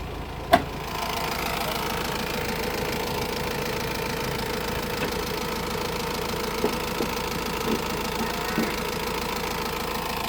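A 2017 Honda Amaze with the 1.5 i-DTEC diesel engine, 63,000 km on it, idles steadily with a close, continuous mid-range clatter. A single sharp knock sounds near the start, and a few faint ticks follow.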